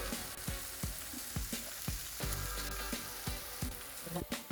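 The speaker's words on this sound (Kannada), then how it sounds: "ಟಮಾಟಿ ಪೇಸ್ಟ್ ಹಾಕೊಂಡು ಈಗ ಫ್ರೈ ಮಾಡ್ಕೊಂತೀನಿ ರೀ" Tomato paste with turmeric, salt, masala and mutton masala frying in a pan for palak paneer, a steady close sizzle broken by repeated sharp spoon taps and scrapes against the pan, with no voices.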